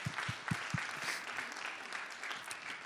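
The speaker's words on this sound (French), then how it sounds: "Donnez une bonne main d'applaudissement à ceux qui ont levé la main." Congregation applauding during a church sermon, a handful of distinct claps at first that blend into a soft, continuous patter of hands, heard at a distance and fairly quiet.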